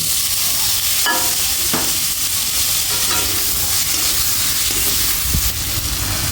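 Chopped tomato with green chilli, turmeric, chilli powder, salt and coriander paste sizzles steadily in a pan as it is stirred and fried down, a constant hiss broken by a few scraping spatula strokes, with no talking.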